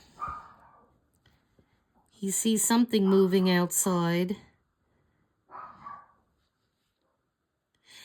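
A dog barks and yelps in a short, loud burst, with someone speaking quietly before and after.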